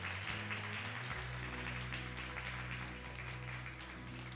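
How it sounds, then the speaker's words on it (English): Audience at a science summit hall applauding speakers, a steady, even patter of many hands clapping at moderate distance over a low background hum, fading slightly toward the end. "I invite you all to give a big round of applause to our speakers."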